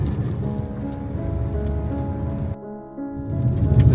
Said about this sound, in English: Hopefully the rain clears up a little bit